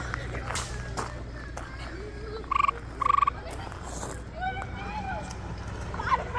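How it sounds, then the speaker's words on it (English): Two short, sharp frog chirps ring out close by over quiet outdoor background and soft footsteps. "something is chirping right in front of me here. Is there like a frog in here or something?"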